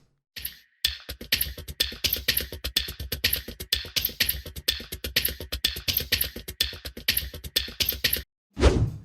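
Video game emote sound effects are layered into a percussive groove: crisp snaps, clicks and fast light tapping in a steady semiquaver pulse, close and dry with no voices.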